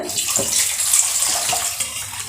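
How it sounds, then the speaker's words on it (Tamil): Water pours steadily and splashes while making pineapple rasam, a continuous close rushing and trickling sound with no talk. "தேவையான அளவு தண்ணி ஊற்றிக்கலாம்"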